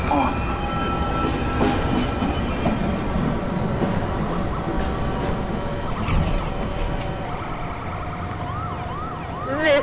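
A New York subway 1 train arriving at the 207th Street station, with a loud, sustained rumble and screech of wheels on rails, rising and falling squeals near the end.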